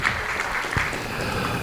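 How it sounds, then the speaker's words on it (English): Audience applause at a village's 10th anniversary event, a steady dense wash of clapping from a crowd that fills the whole moment without talk. "So a round of applause for those people."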